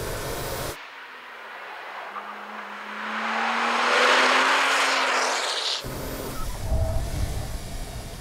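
A car accelerating hard on a race track, its engine rising in a steady climbing tone from close by, heard in the middle between abrupt cuts of other track noise, with no talk.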